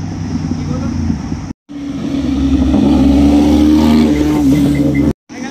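Cars roar past at high speed during a drag race, a loud, sustained engine rush that swells and climbs in pitch, cut by two brief silent breaks, with a voice talking over it.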